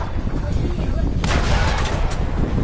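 Tank cannon firing in World of Tanks on PS4, a sharp booming shot about midway through, over continuous low battle rumble and game noise.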